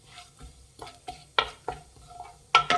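Cumin seeds and bay leaves are stirred in hot oil in a pan as a masala gravy base, with several distinct spoon scrapes and clinks over a faint sizzle, no talking.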